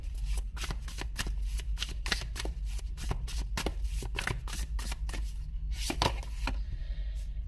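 A deck of tarot cards is shuffled close up, a steady run of quick riffling snaps and soft card slaps over a low background hum, with no speech.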